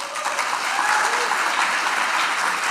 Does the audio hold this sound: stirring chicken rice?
no